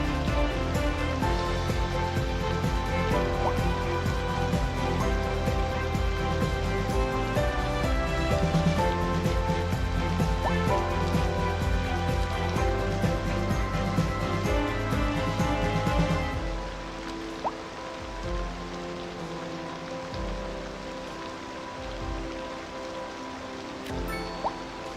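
Steady rain in the city-building game Cities Skylines 2, a dense, even hiss of falling drops layered over game music, then thinning into quieter patter and faint background in the final stretch.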